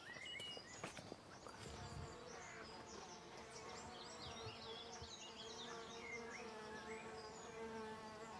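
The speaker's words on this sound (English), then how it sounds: "it's filled with bees and other pollinators" Bees and other pollinators buzz around flowering apple trees in a garden, a soft, continuous, many-layered hum of insects drifting near and far, with a few faint rustles early on.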